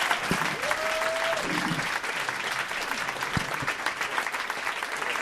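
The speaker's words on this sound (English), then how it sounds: "this is a big round of applause" A large audience at a live comedy show breaks into a big round of applause for comedian Neal Brennan: dense, steady clapping with cheering that holds evenly for about five seconds.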